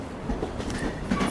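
Train rolling on rails in Bone Lab, a continuous rumbling clatter with soft rhythmic clicks and faint squeals, moderately close and steady.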